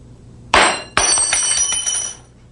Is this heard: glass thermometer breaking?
yes